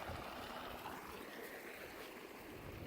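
Hot spring water flowing through a dug trench into a pool at an abandoned desert resort in Nevada, a steady, soft broadband rush and gurgle without pause.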